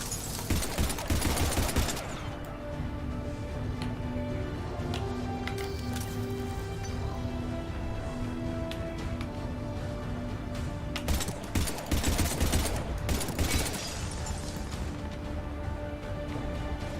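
Gunfire in Mass Effect 3, with a dense burst of rapid shots at the start and another cluster later. In between, a sustained mid-level crackle of firefight sits over a low, humming game background.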